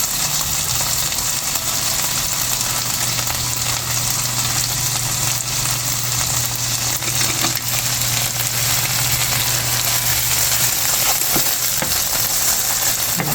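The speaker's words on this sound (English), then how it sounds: "You're supposed to saute a cup of corn with half a cup of onions so that way it's soft." Corn and onions sauté in a pan with a steady, loud sizzle and a constant low hum underneath, no talking throughout.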